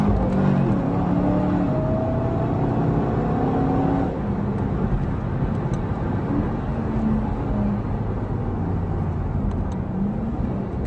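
Cadillac running a lap on a track with its traction control system fully off, a steady loud engine drone with shifting pitch that drops slightly partway through, heard close up throughout.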